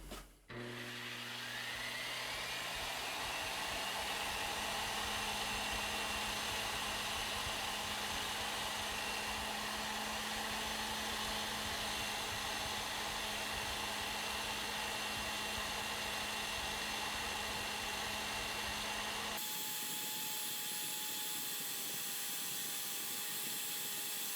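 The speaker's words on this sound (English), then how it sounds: "we're gonna fire up the sander here, and we're just basically gonna run it back and forth along it at the lowest RPM" An electric sander held at its lowest speed while cleaning motorcycle wheel spokes on a KX450F electric conversion, a steady whirring motor hum with rubbing grit, close and unbroken for about twenty seconds before the tone shifts.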